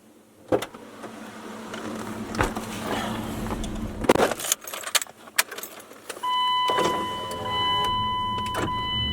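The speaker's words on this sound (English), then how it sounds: "I'm gonna go grab the keys." Keys jangle and clatter at an exhaust shop where a Cummins-powered truck has just been finished, with intermittent handling knocks, followed near the end by a steady electronic chime tone as if from inside the vehicle; no talking.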